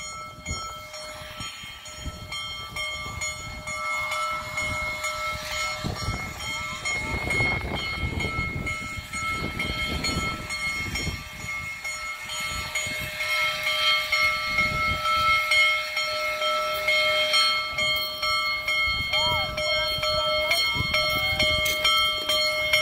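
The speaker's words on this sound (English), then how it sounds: "watching the beautiful steam engine." A Union Pacific Big Boy steam locomotive rumbles past nearby in Salina, Kansas, with loud, continuous clattering and a high whistle-like tone, voices faintly audible underneath.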